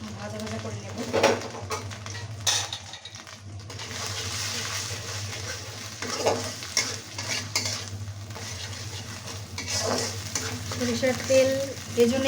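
Onion, ginger, garlic and cumin paste sizzles in hot mustard oil as a utensil stirs and scrapes the pan in bursts, with a voice talking over the cooking.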